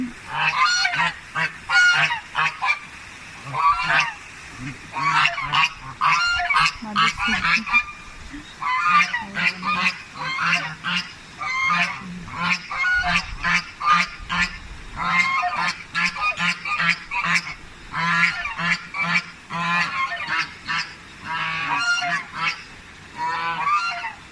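Geese at a calm rural spot honk loudly and close in a dense, continuous chorus of overlapping nasal calls.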